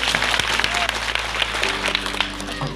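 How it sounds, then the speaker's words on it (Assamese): Audience applause at a high school silver jubilee celebration, a steady wash of many hands clapping throughout, loud and close, with a faint voice underneath. "আপোনালোকেও এটা হাত চাপৰি দিলে খুব ভাল পাম"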